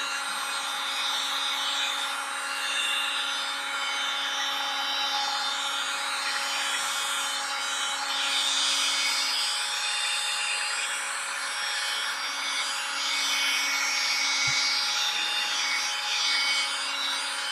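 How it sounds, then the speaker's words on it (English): A heat gun blows steadily over a beeswax sheet to clear its bloom, a constant airy rushing hiss with a faint hum underneath, unchanging and close throughout, with no voices. "Once the heat gun is warmed up, this goes very, very quickly."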